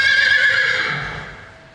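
Mustang horses whinnying in an airport animal lounge, one loud close neigh with a quavering high pitch that tapers off and fades out.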